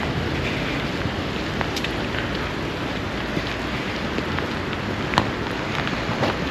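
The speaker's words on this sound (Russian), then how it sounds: "А вот дождик все сильнее и сильнее." Steady rain falling in a Lazarevskoye resort area on the Black Sea coast near Sochi, a dense continuous hiss with occasional louder drops, heard up close with no talking.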